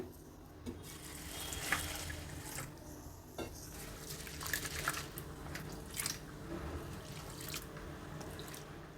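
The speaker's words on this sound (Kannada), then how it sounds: "ಮೊದಲಿಗೆ ಅವಲಕ್ಕಿನ ಒಂದೆರಡು ಸಲ ಚೆನ್ನಾಗಿ ತೊಳೆದ್ಬಿಟ್ಟು ನೀರು ಚುಮುಕ್ಸ್ಬಿಟ್ಟು ನೆನೆಯೋದಕ್ಕೆ ಇಡ್ತೀನಿ" Soft, wet swishing and dripping as flattened rice (poha) is rinsed in water, with scattered splashes and squishes at an irregular pace, quiet and close.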